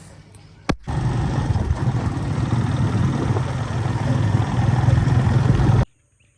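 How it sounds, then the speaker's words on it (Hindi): A motorbike engine catches with a sharp start and settles into a loud, steady close-up running rumble for about five seconds before cutting off abruptly. "निकालते हैं अपनी लाडली बाइक और निकलते हैं इंशाल्लाह फार्म हाउस।"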